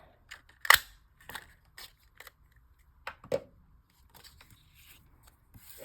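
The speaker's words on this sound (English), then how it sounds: "you, of course, can cut these out with scissors as well" Several short, crisp snips and crunches of scissors cutting paper, scattered irregularly at close range with quiet gaps between them.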